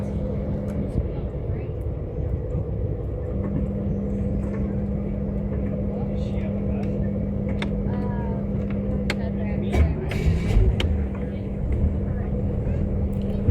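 A Wellcraft 31 ft mini yacht's engine runs steadily in the water with a constant low drone and a close, rumbling wash, while people talk over it.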